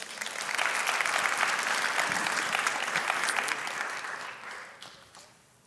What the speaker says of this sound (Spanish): ¿Por qué le das un fuerte aplauso a Dios por eso?